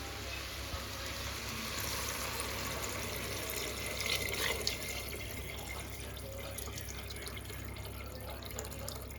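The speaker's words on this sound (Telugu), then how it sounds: "ఇప్పుడు ఇందులో ఈ వాటర్ వేసేద్దాం" Water runs steadily into a pot of rice for vegetable pulao, a continuous faint hiss and trickle with a few brief splashes, no talking.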